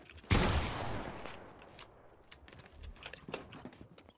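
A single sharp gunshot in a Fortnite match rings out with a decaying tail, followed by softer scattered clicks and light game noises.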